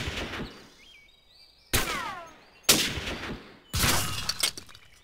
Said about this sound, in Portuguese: um tiro batendo aqui